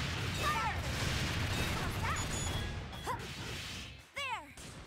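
Weapon fire in the video game Dark Rose Valkyrie: a dense, loud roar of rapid bursts and swishing impacts that tails off, with a short sweeping vocal cry near the end.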